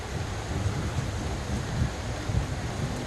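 Low rumbling thunder rolls through a steady heavy rainstorm, with dense rain hiss filling the background and a few deeper booms rising briefly above it, no voices present.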